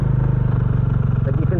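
A Bajaj Dominar 400 motorcycle engine labours on a rough rural hill climb in the Philippines, a steady low throbbing pulse close by that shifts slightly in rhythm as the rider drops to first gear under braking.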